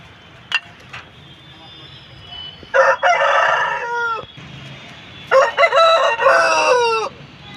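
A red fighting rooster of about 3.5 kg in Nellore, in sharp fighting temper, gives two loud, close crows a few seconds apart after a brief sharp cluck, with quiet background between.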